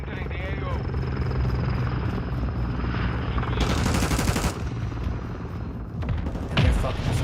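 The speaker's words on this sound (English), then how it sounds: "Friendly Overwatch helo entering the AO." A friendly overwatch helicopter in the video game Warzone thumps loudly overhead through a dense game mix, with gunfire bursts and voices talking over it.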